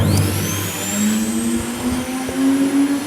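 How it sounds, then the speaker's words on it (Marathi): An uncompensated universal motor switches on and whines up to speed, a close steady mechanical hum with a rising tone. "आता ही अनकम्पन्सेटेड टाईप ऑफ युनिव्हर्सल मोटर आहे. तर याला ऑन करू"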